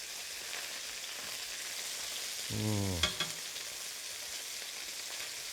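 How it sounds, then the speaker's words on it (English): Fish frying in a pan gives off a quiet, steady sizzle, with a brief burst of louder hissing as teriyaki sauce is added, followed by a few small clicks. "I'm just going to add a little bit of this teriyaki sauce on the fish."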